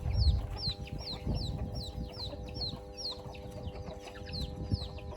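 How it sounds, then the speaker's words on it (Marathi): High, repeated peeping of a chick, steady little cheeps in quick succession over low rumbling background noise and occasional thumps. "कोणतं पिल्लू आवाज कर राहिलं काय सांगा"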